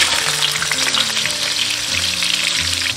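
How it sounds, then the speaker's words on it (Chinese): Star anise, bay leaf and Sichuan peppercorns fry in oil over low heat, a dense, continuous close-up sizzle and crackle with no talking. "开小火给它炸2分钟左右"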